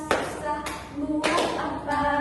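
A group of university students clap their hands together in a few loud, sharp bursts, spaced unevenly over a couple of seconds, with faint voices between the claps.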